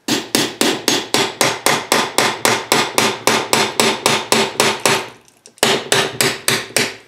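A hammer taps a putty knife to split a Murray MST-205 transaxle case, sounding as loud, close, sharp metallic strikes in a fast, even rhythm, roughly fifteen before a short pause and then several more, with no talking.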